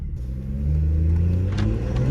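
A BMW 440i fitted with aftermarket downpipes and a tune accelerates on a road, its engine note rising from a low rumble into a strong, steady climbing drone heard close up from inside the car.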